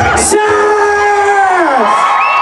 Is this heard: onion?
no